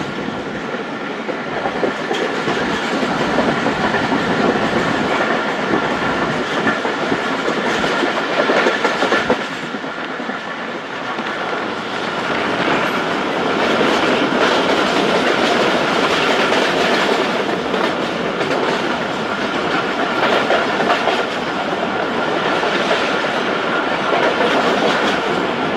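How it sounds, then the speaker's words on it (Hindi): The 16Dn Karachi Express runs at speed on the line from Multan toward Karachi, a loud continuous roar of wheels on rails with steady clickety-clack and rattling carriages, heard close from inside without any talk. "जमपीर रेलवे स्टेशन पहुंच रही है हमारी ट्रेन और अब जाकर बुक स्पीड पर ट्रेन है"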